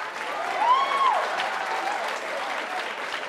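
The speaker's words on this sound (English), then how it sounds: "You can clap." Brief audience applause for a celebrity hairstylist at a talk, with many hands clapping fairly close and a faint tonal whistle-like sound partway through.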